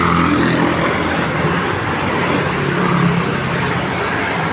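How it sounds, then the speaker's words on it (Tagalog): Philippine Airlines airplane passing close overhead makes a loud, steady, broad roar that fills the whole stretch without letting up, with no voices. "Yung mukha malaki-laki yung palapag na aeroplano. Philippine Airlines."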